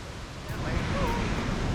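Adams Falls waterfall on a Rocky Mountain National Park hike gives a steady broadband rush of falling water, filling the whole clip at moderate loudness, with faint voices underneath.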